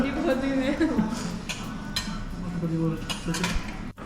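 Dishes and cutlery clink and scrape at a table, with a voice talking over the light, scattered clatter of eating.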